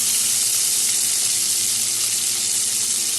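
Potato pieces fry in a pan with salt and whole garam masala, giving a steady, dense sizzling hiss that runs unbroken for the whole stretch, close and fairly loud.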